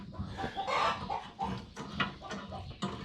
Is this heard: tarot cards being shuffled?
no